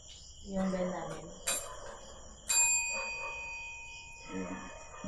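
A bell rings in a few sharp, bright strikes, each leaving a clear lingering tone, with soft talk between the rings.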